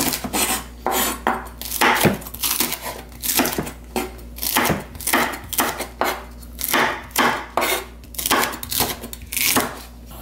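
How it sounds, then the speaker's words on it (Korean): Rapid, steady knife chops on a wooden board, a close rhythmic series of crisp thuds slicing chili peppers, continuing for several seconds without talk. "고추도 조금 어서 썰어 놓을게요"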